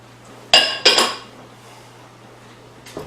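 Butter being stirred into keto cornbread batter, heard as two quick clinks of a utensil against the bowl, a fainter knock near the end, and quiet in between.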